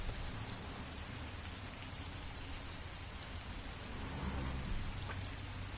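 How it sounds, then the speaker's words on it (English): Steady rain falls in the video game Heavy Rain, a dense, even hiss of drops on surfaces with a faint low rumble beneath it, and no talking. "Why are you playing basketball in the rain?"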